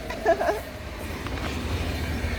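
Steady rumbling rush of a moving train with wind noise, a brief clatter near the start, continuing without a break.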